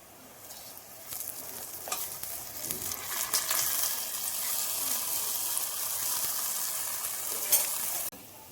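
Medu vada, South Indian lentil fritters, frying in hot oil: a steady close sizzle that swells after a few soft clatters and runs on evenly before stopping abruptly, with no voices.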